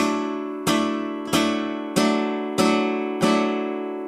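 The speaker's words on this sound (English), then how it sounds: "Rasgueado." Guitar strummed in quick flamenco rasgueado bursts while playing granadinas, five sharp ringing chords evenly spaced, each left to ring and fade, with no talking.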